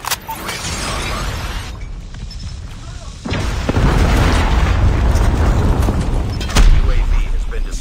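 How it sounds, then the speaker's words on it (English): Predator missile explosions in Call of Duty multiplayer: a sustained booming roar that swells louder midway, with a sharp heavy impact near the end, all dense and close amid game noise. "Be advised, hostile predator missile inbound."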